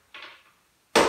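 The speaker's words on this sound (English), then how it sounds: "tap the pins out of the hinges" A hammer striking a nail set taps a pin out of an interior door hinge: a soft metallic tap, a pause, then one sharp, loud strike close by.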